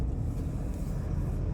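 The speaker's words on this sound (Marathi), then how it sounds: "इथं खूप ट्रॅफिक आहे." Road traffic on a busy bridge rumbles as a steady, low, continuous drone of passing vehicles, with no distinct horns or voices.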